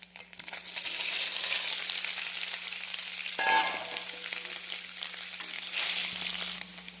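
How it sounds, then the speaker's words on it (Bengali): Paneer pieces frying in hot white oil in a wok, a loud steady crackling sizzle heard close up, with a clink and stirring scrape midway and a low hum underneath. "তেলটা গরম হতেই পনিরটা হালকা করে ভেজে নিচ্ছি।"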